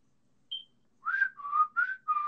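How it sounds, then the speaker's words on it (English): A person whistles a short, close melody: a brief high note, then a few sliding tones in quick succession. "you whistling this shit. I could whistle too."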